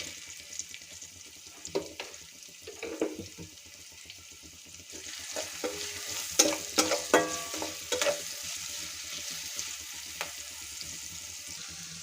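Vegetables for traditional bhogi bhaji sauté in oil in a pan with a steady close sizzle, while spoon stirs and clinks build in the middle, with no talk.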